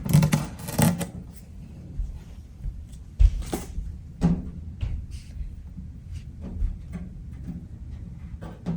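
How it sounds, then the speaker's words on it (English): Tape peeled in short ripping strips from the cardboard box of a Ninja Foodi Dual Heat air fryer oven, with scattered crinkles and cardboard handling knocks between the tears, close and fairly quiet. "We're gonna take the tape off here."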